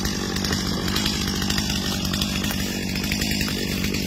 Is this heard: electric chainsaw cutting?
yes